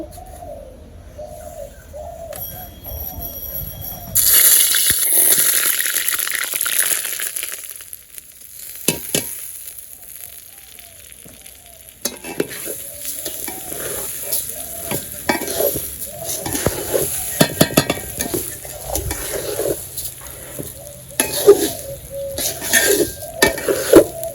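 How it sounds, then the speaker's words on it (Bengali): Rice tipped into hot oil for a village-style chicken biryani bursts into a loud sizzle a few seconds in, then settles into steady frying with repeated scraping stirs, while pigeons and other birds call in the background. "আমার তেলটা গরম হয়ে গেছে এখন চাল দিয়ে দেবো"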